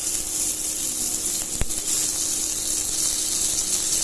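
Food frying in a pan while dosa is being made, a continuous bright sizzle of hot oil with a single sharp tap partway through, steady and close, with no voices.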